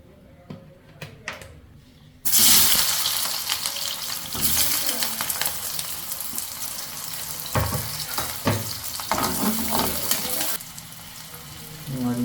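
Thick-cut onions drop into hot oil for homemade masala pasta and burst into a loud, sudden sizzle, which keeps frying steadily as a spoon stirs and scrapes the pan. Quiet handling sounds come first.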